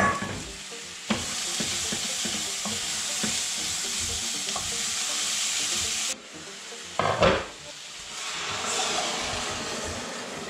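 Carrots fry and are stirred in a pot with a hot vegetable-and-potato dish, giving a constant sizzle broken by clinks and scrapes of the utensil, with a brief drop and a few sharp knocks near the end.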